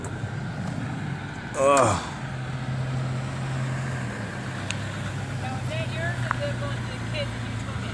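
A short-course RC truck (SC28) revs at full throttle in a brief whining burst, then its motor settles into a steady hum, with a person grunting nearby.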